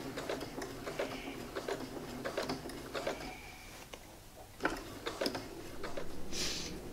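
Sewing machine stitching a straight seam along a marked margin, a quiet run of rapid ticking needle strokes in short bursts with brief pauses, close and without talking.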